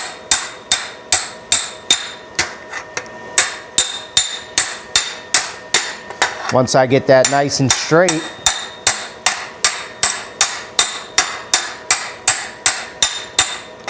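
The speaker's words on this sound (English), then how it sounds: "we're gonna just sit here, just hammer it out." Steady, evenly spaced hammer blows ring sharply on a sheet metal patch for a car headliner bow repair, close and loud, pausing briefly while someone speaks mid-way.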